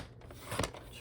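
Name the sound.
scissors cutting out paper junk journal pieces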